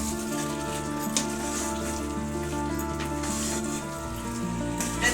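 Marinated mutton sizzling and crackling steadily in hot oil with spices in a pan, a continuous close, bright frying hiss without pause.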